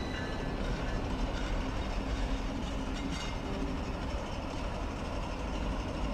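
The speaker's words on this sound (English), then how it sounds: "What a great train." A train in the video game The Charnel House Trilogy rumbles steadily and close for the whole stretch, with a continuous low roll and faint rhythmic rail clatter and no talking over it.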